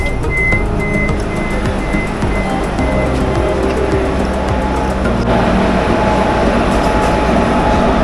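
A Vande Bharat train running at 150 km/h between Trivandrum and Kozhikode rumbles steadily along the rails, a continuous loud roar with rhythmic clatter throughout, heard close from on board.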